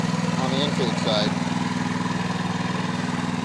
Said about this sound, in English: there's the unit running